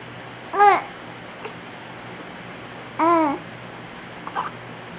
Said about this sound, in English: You don't like those hiccups, do you?